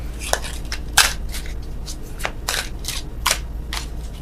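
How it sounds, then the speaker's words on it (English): Tarot cards being shuffled by hand during a love reading, a run of short crisp riffling and slapping bursts scattered irregularly across the clip, close and fairly quiet, with no talking. "Oh, worst shuffling in the world."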